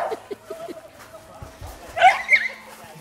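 Dogs, including a Fox Paulistinha, barking and yipping at a house, a few sharp close barks in a burst near the end with voices and faint laughter around them.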